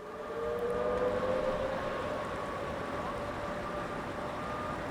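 Civil defense warning sirens sound over a West Bank town as Israeli forces approach, a sustained wailing tone rising in at the start and holding steady at a distance over low outdoor background noise.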